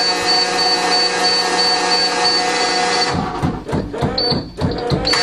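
A vehicle engine on a frigid cold start with a weak, failing battery: a steady mechanical whir for about three seconds, then the cranking breaks into uneven, sputtering pulses that never catch, close and fairly loud.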